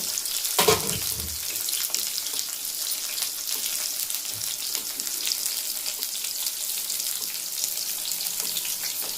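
Onions fry in a pan for Udupi-style sambar, a steady close sizzle with a louder clatter of stirring near the start and faint scraping later, with no talking.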